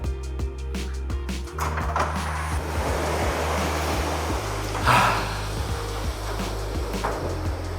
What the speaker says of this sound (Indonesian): kalian bisa mendengar suara air karena memang ada sungai di luar sana.